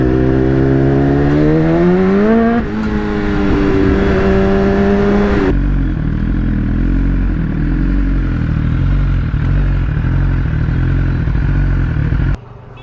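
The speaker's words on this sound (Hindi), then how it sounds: "जैसे ही थ्रॉटल देके छोड़ो ना, ये इतना खतरनाक वाला पटाखा मारती है" A BMW S1000 RR sport motorcycle revs loudly up close, its engine pitch climbing twice before the throttle drops off into a rough, crackling idle rumble; no one speaks.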